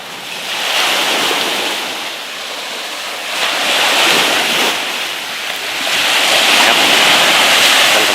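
Surf washing onto Nang Rong Beach in Sattahip, Thailand, a loud steady roar of breaking waves with wind buffeting the microphone, swelling and easing in broad surges with no voices.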